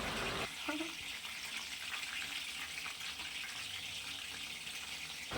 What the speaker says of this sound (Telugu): ఇలా ఫస్ట్ మా మమ్మీ వంకాయల్ని నూనెలో ఫ్రై చేసింది